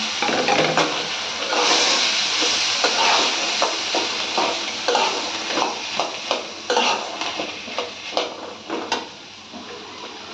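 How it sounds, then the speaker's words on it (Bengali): Chickpeas frying in oil with onions and chillies, a loud close sizzle broken by repeated scraping and stirring strokes that grow more distinct toward the end. "এদিকে আমি পেঁয়াজ মরিচগুলো তেলে দিয়ে দিয়েছিলাম, ভাজা হয়ে গেছে, ছোলাগুলো দিয়ে দিলাম"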